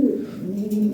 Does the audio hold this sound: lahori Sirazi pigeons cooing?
yes